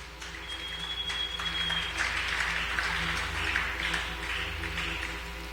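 A church congregation applauds and cheers after a reading, a steady wash of clapping and voices that holds throughout, fairly full and close, with a faint sustained tone early on.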